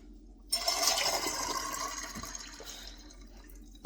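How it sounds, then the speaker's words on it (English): Cold filtered water pours steadily into canning jars with a rushing, splashing fill that gradually quiets, ending with a sharp clink near the end. "I'm going to fill them up with water and get the lids on."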